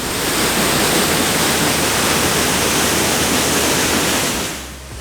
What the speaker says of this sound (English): this is a river in Arecibo.